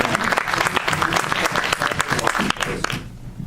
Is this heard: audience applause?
yes